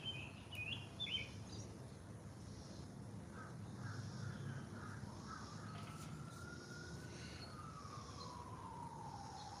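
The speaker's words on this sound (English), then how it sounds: "All the birds are running away." Crows caw outdoors ahead of rain, joined by scattered calls from other birds over a low, steady ambient rumble, with a faint rising tone drifting through near the end.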